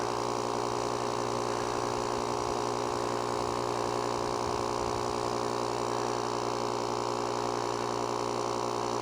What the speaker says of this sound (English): it's going pretty quick, too, for such a small compressor